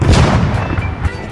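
Heavy booming blasts like cannon fire rumble loudly in quick succession, deep and chaotic, with a couple of sharper bangs.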